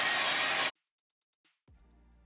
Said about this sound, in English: I'm just gonna blow dry just a bit,